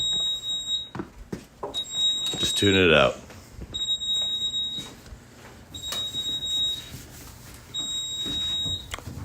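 An electronic alarm in a garage gives a long, high, steady beep about every two seconds, five in a row, while people talk and move things around nearby.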